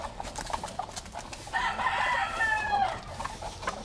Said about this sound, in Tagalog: Yung ganyan yung mga manok namin guys.